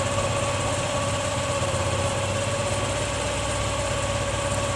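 A TVS Jupiter scooter engine with a carburetor being tuned runs at high RPM, a continuous steady droning hum held close and fairly loud.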